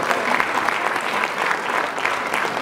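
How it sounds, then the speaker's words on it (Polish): Sustained audience applause fills the hall at the close of the Cantabile choir's 15th-anniversary jubilee concert, a steady dense clatter of many hands with no pause. "Jeszcze raz, wielkie brawa na wszystkich naszych gości."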